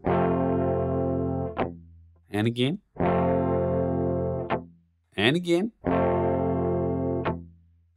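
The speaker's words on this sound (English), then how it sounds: "give it an upstroke so we get that real nice clicky sound" Distorted electric guitar chords are strummed in repeated rhythmic bursts, with short clicky muted strokes between them and a voice speaking briefly in the gaps.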